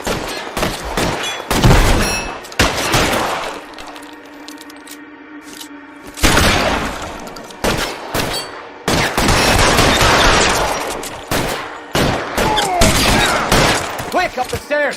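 Gunfire rattles in the L.A. Noire video game, with bursts of rapid shots and sharp cracks separated by brief lulls, loud and close, as voices talk between and over the volleys.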